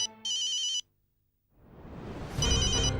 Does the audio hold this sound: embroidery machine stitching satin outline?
no